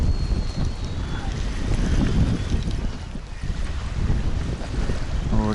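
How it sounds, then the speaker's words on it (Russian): Strong wind gusts across an open reservoir during a feeder-fishing trip, a steady broadband roar with wind buffeting the microphone and faint water lapping against a boat throughout. "ветер опять начал разгонять."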